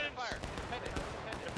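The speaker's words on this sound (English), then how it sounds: "Nice shooting by the 5th Corps into the HL" Musket volleys crackle in the War of Rights video game during a historical battle event on the Hagerstown map, a rolling string of ragged shots under a busy, noisy battlefield.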